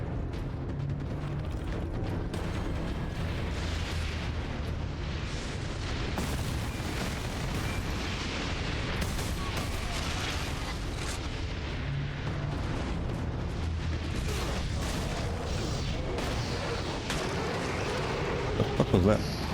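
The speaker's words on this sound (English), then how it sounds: "they really love throwing grenades at you" Grenade blasts amid combat in Warhammer 40,000: Space Marine on PS3, a thick, sustained barrage of booms, gunfire and clanking mechanisms, loud and close, with a voice speaking over the din.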